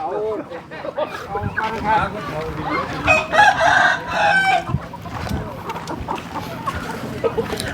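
Chickens cluck and a rooster crows near mid-clip at a Thai–Cambodian border market at Chong Anma, loud and close over a busy background of people talking.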